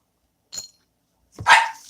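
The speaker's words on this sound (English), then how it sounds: "that's Fox, and I don't know what she's barking at. She heard a noise." A dog named Fox barks at a noise outside: a short soft yip, then after a pause one louder, sharper bark, close by in a quiet room.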